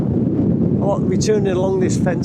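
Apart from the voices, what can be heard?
wind blowing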